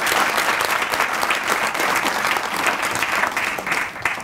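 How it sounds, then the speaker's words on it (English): Sustained, dense audience applause from a large crowd at a professorial inaugural lecture, loud and even from start to finish before easing slightly at the close. "And I would like us to give him a round of applause."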